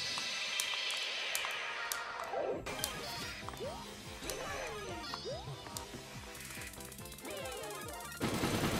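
Rapid Super Mario Maker 2 explosions and impacts with whooshing effects and zapping tones, a busy burst of arcade sound effects with no talking.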